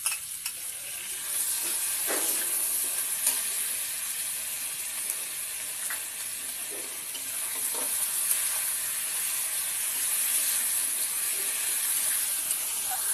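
Ginger garlic paste frying in a pan, a steady hissing sizzle that runs throughout with occasional scraping stirs, close and even, no voices.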